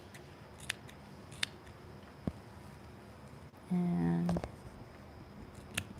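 Scissors cutting quilting fabric, a few faint isolated snips followed by one longer, louder crunching cut, with a voice speaking briefly.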